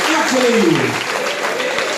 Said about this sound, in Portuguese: Vamos aplaudir nosso Deus bem forte, mais forte ainda.